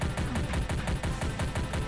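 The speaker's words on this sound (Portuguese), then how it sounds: "É a minigun." A minigun in a DOOM mod video game fires a rapid, unbroken stream of loud, dense shots that pound steadily throughout, with no pauses or talk.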